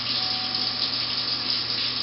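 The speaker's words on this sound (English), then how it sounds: "I'm going to wash my hands pretty well now" A kitchen tap runs steadily for hand washing before preparing a Thanksgiving turkey, giving a continuous, even hiss of flowing water close by with no talk.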